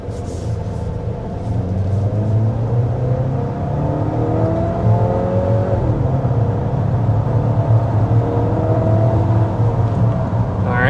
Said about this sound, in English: we need to go ahead and start with a hard acceleration